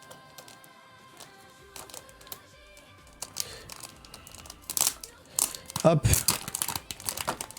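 Plastic wrap is peeled and crumpled off a Worlds 2025 deck box, with crinkling that builds into louder tearing bursts toward the end. The crackle is close, and a voice speaks briefly at the start.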